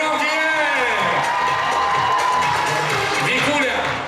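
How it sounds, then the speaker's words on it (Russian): Loud applause and cheering from an audience at a Miss and Mister BSU 2019 university pageant, a dense steady roar of clapping and shouts with a voice speaking over it. "аплодисменты громкие."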